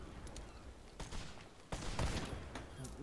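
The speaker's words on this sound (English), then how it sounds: "Fire at them with the cannon." Ship cannon fire during a naval battle in the video game Blazing Sails: a few sharp booming shots with crackling bursts around them, heard against steady game ambience and sea noise.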